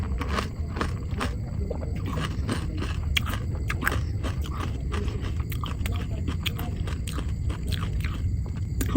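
Fuchka (pani puri) being eaten up close, with repeated crisp crunches and wet chewing bites in an irregular rhythm over a low background.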